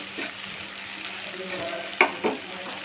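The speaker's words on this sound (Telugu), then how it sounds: "ముందుగా ఉడకబెట్టుకున్న ఈ ఆలు కూడా వేసేసుకోవాలి. మొత్తం కలిసేలా కలుపుకోవాలండి." Boiled potatoes and onions are stirred together in a pan, with a soft continuous sizzle and a few sharp scraping knocks of the spoon near the end.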